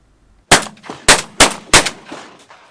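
Four sharp shotgun blasts ring out at the opening of the Southland duck hunting season, loud and close, each followed by a short echoing tail, with a fainter distant shot at the end.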